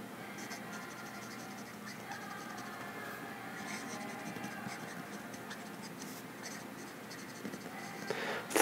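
A Conklin All American fountain pen with a firm medium nib scratches quietly across paper in quick strokes, close and faint, ending in a sudden louder knock.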